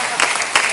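A studio audience on the Tunisian TV show Labas breaks into brief applause, a short burst of clapping that swells twice within under a second.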